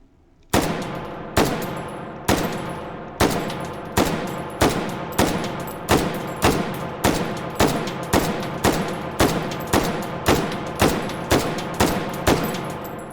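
An AR10 rifle fired semi-automatically at a target 20 meters away, about seventeen sharp, loud individual shots spaced evenly at roughly one per second after a brief quiet start.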